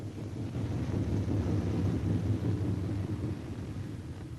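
A B-17 Flying Fortress bomber comes in to land in 1944 with its left inboard engine dead, a low, muffled, wind-buffeted engine rumble that drones steadily without a break.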